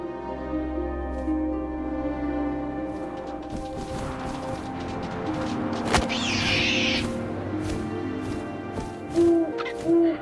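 An owl hoots in the video game What Remains of Edith Finch, set against a soft wind-like bed with a few sharp clicks and brief knocks toward the end.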